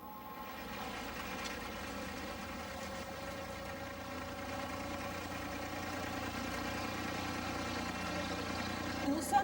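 An abra water taxi crossing Dubai Creek, its engine idling in a steady low drone with a tonal hum that holds evenly throughout, with a brief knock near the end.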